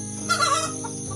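A single short, nasal call from a turkey hen in a coop at night rises briefly and fades, close by, with a faint buzzy hum underneath.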